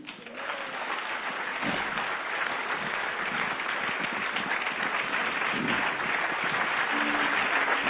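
Church congregation applauding steadily for eight seconds, a dense, even wash of clapping that fills the space with scattered cheers rising above it.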